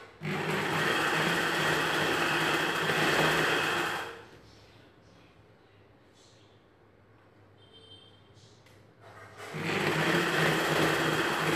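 A sewing machine runs loud and steady as it stitches a folded salwar hem, stops for a few seconds of quiet with faint handling, then starts up again at full speed.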